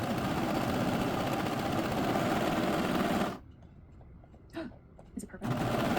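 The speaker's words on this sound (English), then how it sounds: "let's get to sewing" A sewing machine stitches waistcoat fabric in a fast, steady whir for about three seconds, stops briefly while a few soft handling sounds are heard, then starts running again.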